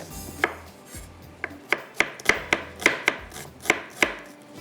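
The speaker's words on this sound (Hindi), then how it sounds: "ये प्याज को सिर्फ कटिंग करके" An onion chopped on a board, about a dozen sharp close knife strikes in a fairly quick, uneven rhythm, with no speech.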